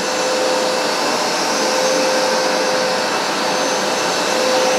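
A Hoover SmartWash carpet cleaner runs with a steady, loud, close-up whir and rushing suction drone, unchanging throughout with no voices.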